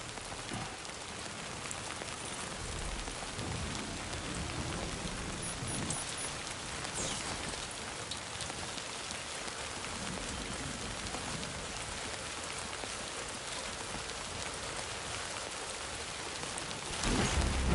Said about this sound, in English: No end to this rain.